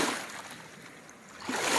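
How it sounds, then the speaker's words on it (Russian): Waves wash against a rocky river shore with coarse sand near Verkhnezeysk on the Baikal-Amur Mainline, a steady broadband rush that swells loudest at the start and end of the short stretch. "Сейчас несколько шумно, прям волны."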